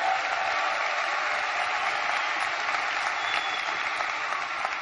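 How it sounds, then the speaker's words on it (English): A crowd at a political campaign rally in Charleston, West Virginia claps and applauds steadily for several seconds, a dense, continuous patter heard from some distance. "I want them to hear that I at least honored them with you guys clapping and applauding"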